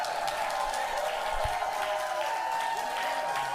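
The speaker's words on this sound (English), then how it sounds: "if this audience claps loud enough" Studio audience on a daytime talk show clapping, a moderate, steady wash of applause at middle distance with a faint tonal hum running underneath and no clear speech.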